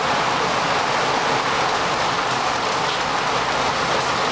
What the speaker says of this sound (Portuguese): Agora com barulho forte de chuva, certo?